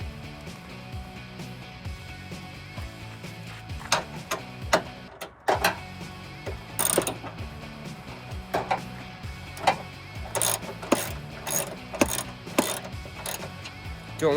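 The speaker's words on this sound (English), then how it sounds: "So let's start screwing this all back in." Screws go back into a Mustang headlight housing with a ratcheting driver, making bursts of close clicking and scraping, with small knocks and pauses in between.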